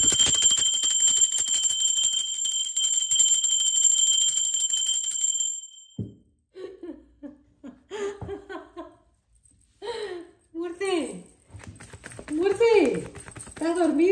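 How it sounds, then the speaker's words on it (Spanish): A bell rings continuously with a bright, sustained metallic tone for about six seconds, then stops, followed by someone talking and laughing. "¡Va campana!"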